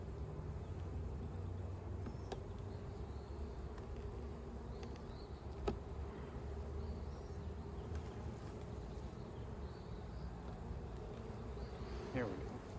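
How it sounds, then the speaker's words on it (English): Honey bees hum around an opened hive during a late April inspection, a soft, continuous outdoor buzz with occasional close passes and light handling noises. "a lot of bees."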